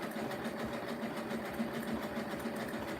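A sewing machine stitches a rope basket, running steadily at close range with a continuous rapid mechanical chatter and no talking.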